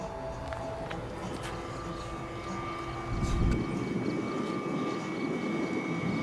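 A large electric-powered RC airplane, a Pober Pixie with a 118-inch wingspan, drones steadily overhead at a runway, a continuous hum with a faint tonal whine that swells slightly louder partway through.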